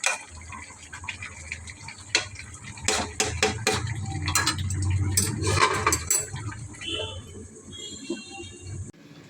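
Chicken meat is stir-fried dry in a pan, with close metal clinks and scraping stirs that cluster in a busy middle stretch and then fade out.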